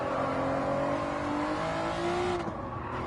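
A Honda NSX in Gran Turismo 7 at Interlagos revs hard and climbs in pitch, then drops abruptly as it upshifts near the end, a steady loud engine drone with no talking.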